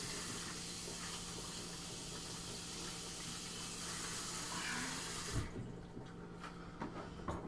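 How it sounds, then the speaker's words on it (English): Steady hiss of water running from a kitchen tap in a cooking game as a utensil gets a quick rinse, continuous and fairly quiet, then cutting off abruptly near the end, followed by a few faint clatters. "I'll wash it off real quick."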